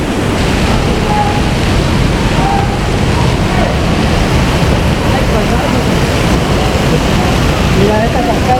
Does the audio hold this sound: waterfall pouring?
yes